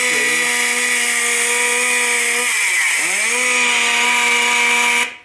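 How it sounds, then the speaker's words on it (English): A haunted house prop chainsaw plays its built-in sound effect: a loud, steady motorized buzz that dips briefly around the middle as if throttling down, then revs back up and cuts off abruptly at the end, with no talking. "use it as a sound prop and eliminate a gas-powered chainsaw"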